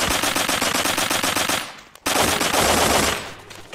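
Rapid automatic gunfire from MP7 and XM8 guns in the video game Blockpost: loud, dense bursts of shots that fade out briefly, then resume in another sustained burst that tails off near the end.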